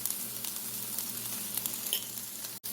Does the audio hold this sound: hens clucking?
no